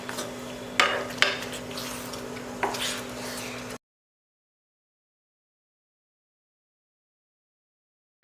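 Chicken curry for a Mangalorean-style chicken ghee roast bubbling and being stirred in a pan, with several soft utensil scrapes and clinks over a steady simmer, then silence for the rest.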